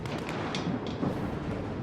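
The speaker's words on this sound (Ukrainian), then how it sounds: "стрілянина почалася" Gunfire in the shooter S.T.A.L.K.E.R. 2 sounds as a few muffled shots and thuds spaced irregularly over a dense rumbling background, fairly distant and brief.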